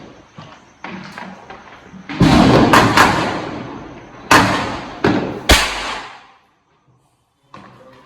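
A string of sharp Diwali firecracker bangs, several loud cracks with crackling tails, close by, followed by a brief silence and one last pop.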